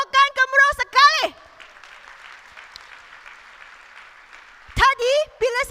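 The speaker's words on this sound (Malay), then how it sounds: "Bagi tepukan gemuruh sekali" A crowd claps in sustained, even applause for about three and a half seconds, filling a pause between bursts of a man's amplified speech before and after.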